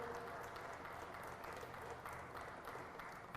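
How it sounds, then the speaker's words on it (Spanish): Sustained applause from a church congregation during a sermon, a steady dense patter of many hands clapping at moderate level throughout, without a break. "Ese aplauso"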